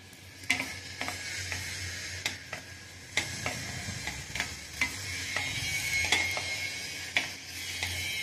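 Ingredients for fenugreek ladoo roasting in a pan, a quiet sizzle under regular spatula taps and scrapes against the metal, about one or two per second, with no speech.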